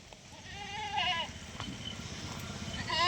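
Good-quality goats for sale at a livestock trader's tethering yard bleat in several short, wavering calls, close and fairly loud, over a low background murmur.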